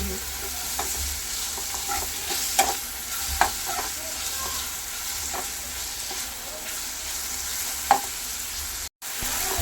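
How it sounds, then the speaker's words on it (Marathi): Onion and tomato sautéed in a pan with a steady sizzle, stirred throughout with occasional scraping clicks of a spoon against the metal. "कांदा आणि टोमॅटो आपला व्यवस्थित व्यवस्थित परतून झालेला आहे"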